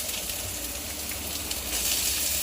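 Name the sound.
oil heating in a pan to fry bananas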